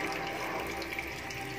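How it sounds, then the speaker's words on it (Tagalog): Water pouring steadily into a cooking pot while making chicken adobo, a continuous close rushing and splashing with no talk over it. "At lagyan natin yung tubig."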